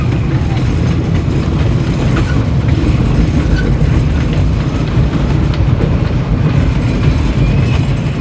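A train rumbles loudly close by, a continuous heavy roar with rattling and clattering of the cars as it passes.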